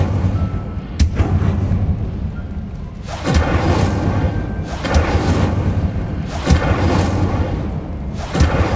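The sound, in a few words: Incendio fire spell being cast in Hogwarts Legacy video game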